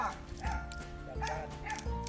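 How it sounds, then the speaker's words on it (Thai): A dog barks and yips several times in quick, uneven bursts nearby, with some higher whimpering tones between the barks. "พ่อนิ่มดูน้องหมาเห่า"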